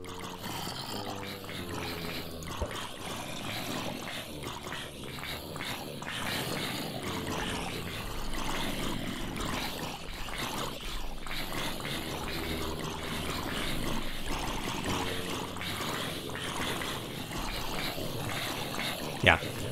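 Many Minecraft zombies groan over a continuous bed of watery, noisy game ambience, with repeated low moaning calls spread throughout and no talk.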